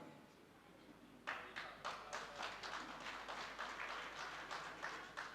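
An audience at a Buddha Jayanti gathering in Mansa breaks into clapping after a quiet pause, a run of rhythmic, moderately distant claps that carries on to the end.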